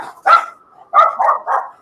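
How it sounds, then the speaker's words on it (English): A dog barking in short, sharp bursts near the microphone, three or four loud yaps in quick succession with brief gaps between, heard alone. "dog just going a bit nuts there."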